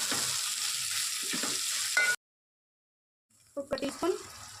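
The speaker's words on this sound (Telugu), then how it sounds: "కొత్తిమీర, కొంచెం పచ్చి ఫ్రై అయిపోవాలి." Coriander fries in a pan for bagara rice, giving a steady sizzle for about two seconds. A sudden silence follows, then a few louder clattering knocks.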